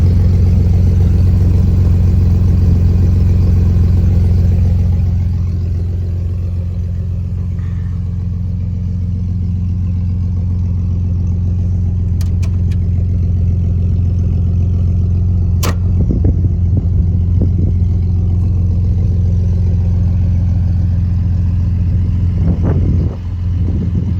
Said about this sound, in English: The exhaust is super loud.